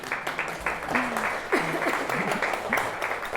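An audience at a talk session applauds in a steady, dense patter of clapping that continues throughout, with a few faint voices underneath.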